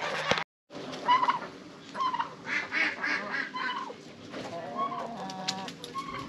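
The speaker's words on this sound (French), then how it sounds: "On va aller voir les dindes." Turkeys and chickens fill a backyard poultry yard in September with a busy overlapping chorus of gobbles, clucks and calls, steady and close after a brief silent gap at the start.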